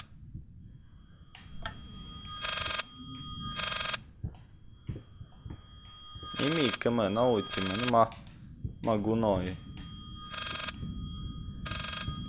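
Telephone in the horror video game Layers of Fear rings in repeated bursts, loud and near, with someone talking over and between the rings.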